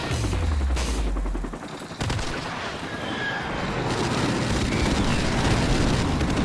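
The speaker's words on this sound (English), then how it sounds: "Friendly airstrike on the way!" In Call of Duty Modern Warfare Remastered, a low rumbling blast opens a loud, dense barrage of rapid gunfire and explosions that keeps going close up without a pause.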